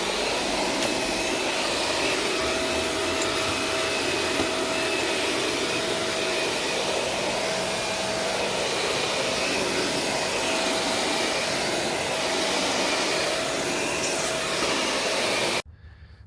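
A vacuum cleaner runs continuously during cleaning, a loud steady whining drone close by that holds for the whole stretch before cutting off abruptly at the end.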